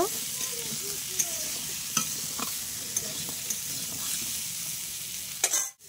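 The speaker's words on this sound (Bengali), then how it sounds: "হলুদ আর লঙ্কা দিয়ে দিয়েছি, দিয়ে আমি আর একটু ভেজে নেব।" Vegetables for a Malabar spinach curry fry with turmeric and chili in a pan, giving a steady close sizzle with occasional stirring clinks and scrapes.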